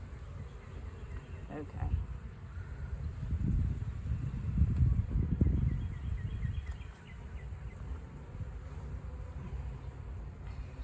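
Steady low insect buzzing from honey bees at a hive in winter, swelling louder in the middle, with a brief spoken word near the start.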